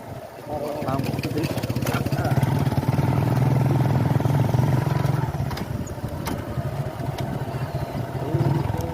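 A motorcycle being ridden near a riverside ghat: a steady engine drone with low rumble and rattling clatter, continuous and fairly loud throughout, with wind noise.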